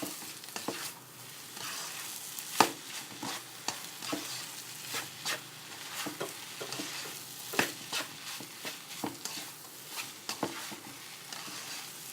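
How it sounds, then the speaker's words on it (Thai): Cooked rice is stir-fried with basil chicken in a pan: a sizzling bed of frying broken by repeated sharp scrapes and clanks of a spatula at an uneven, busy rhythm, close and alone. "ผัดให้เขาเข้ากันดีก่อนนะคะ"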